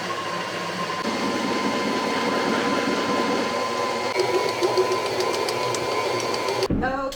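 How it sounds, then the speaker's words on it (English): A KitchenAid stand mixer runs continuously while mixing pizza dough, giving a steady motor whir with faint rhythmic knocking, and it stops abruptly at the end. "which is super easy with the KitchenAid mixer"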